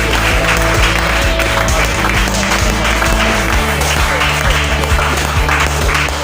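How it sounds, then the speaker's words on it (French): Church congregation at a worship service clapping and cheering loudly and continuously to acclaim the Lord, a dense, steady wash of applause with voices mixed in throughout. "Est-ce que nous pouvons acclamer le Seigneur?"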